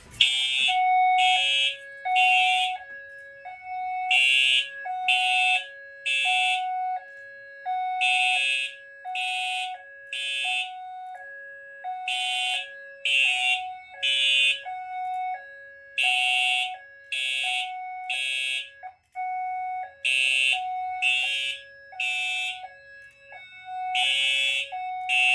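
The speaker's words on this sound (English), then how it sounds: "we're going to re-alarm with the Johnson Controls JBG12LX" A fire alarm system driven by a Fire-Lite MS-9600UDLS panel sounds after a Johnson Controls JBG12LX pull station is activated: loud, steady repeating horn blasts in a regular rhythmic pattern, continuous and alone, with no talking.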